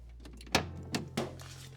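A Mercedes door lock assembly, out of the door, snaps through its latch mechanism: three sharp mechanical clicks about half a second apart, close and fairly clear over a low steady background hum.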